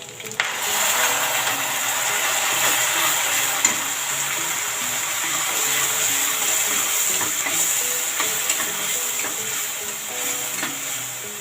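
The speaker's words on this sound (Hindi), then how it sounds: "प्याज को हम थोड़ा सा हल्का ब्राउन होने तक भून लेते हैं" Onions frying in a pan for shahi paneer give a steady, bright, continuous sizzle close by, with faint occasional scraping and stirring clicks, holding even throughout with no talking.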